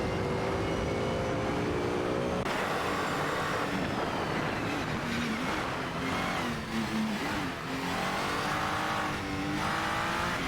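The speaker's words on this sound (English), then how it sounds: "Both drivers are piloting GT3 cars, with Sconraven in the Acura NSX and 10K704 in the BMW M6." GT3 race cars, including an Acura NSX and a BMW, roar through a racing video game with loud revving engines, shifting pitch as they accelerate and pass, plus occasional tire squeal, continuous with no talk.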